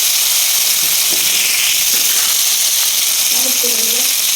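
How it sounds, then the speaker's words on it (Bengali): Bitter gourd (ucche) slices fry in hot oil, giving a steady, close sizzling hiss that runs the whole time, with a faint voice-like murmur near the end. "এখন তেল গরম হয়ে গেল, এখন মা দেখলাম উস্তেগুলো ছেড়ে দিল তেলে"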